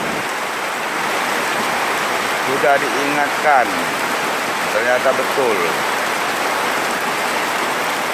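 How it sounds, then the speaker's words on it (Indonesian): Drainage water floods into residents' houses after a badly planned channel on a city street overflows, a steady loud rushing wash that runs throughout while a person speaks briefly over it. "air mengalir masuk ke rumah warga."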